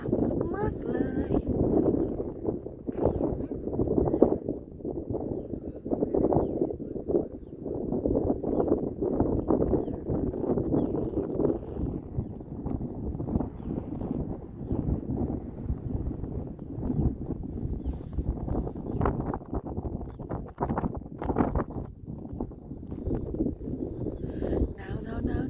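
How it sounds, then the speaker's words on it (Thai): Cold wind blowing at sunrise on Doi Mae Tho mountain, gusty rumbling buffeting throughout while someone talks over it, fairly loud and close. "จะได้ยินเสียงลมนะคะ คือตอนนี้หนาวมากเลยค่ะ"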